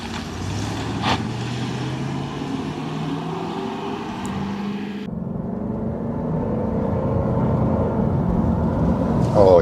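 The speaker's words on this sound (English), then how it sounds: "This car gathers pace so beautifully and effortlessly, even when you're not foot to the floor." A Mercedes-Benz 560 SEC (C126) coupe accelerating smoothly, its engine note rising steadily in pitch and growing louder over several seconds, heard from inside the car with continuous road noise.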